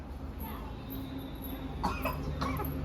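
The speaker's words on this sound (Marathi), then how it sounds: "खोकला आले" A couple of short coughs over a low steady background hum aboard a train, with a faint thin whine running through.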